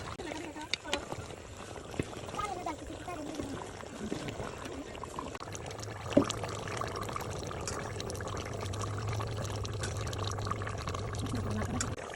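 Water is poured into a pot of about a kilogram of onions for a duck and coconut curry, a steady pouring wash running throughout beneath a person talking.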